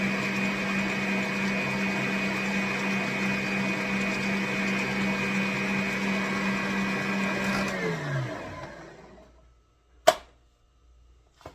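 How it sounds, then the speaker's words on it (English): An electric mixer whirs steadily as it beats peanut butter frosting, a loud continuous motor drone that winds down and stops, followed by a single sharp knock. "That's one thing about this mixer."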